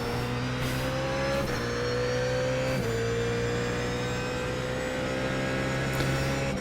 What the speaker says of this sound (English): Very interesting sound with that high-pitched squeal, whatever that is.